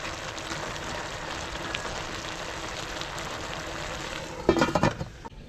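Coconut milk (gata) for ginataang dawat cooks down in a pan in a rural home kitchen, giving a steady close sizzle that swells into louder, choppier crackling bursts near the end.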